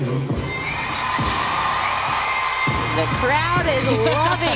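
A gymnastics arena crowd cheers and whoops during a college floor routine, a steady roar with shrill shouts and bursts rising toward the end, heard close and loud.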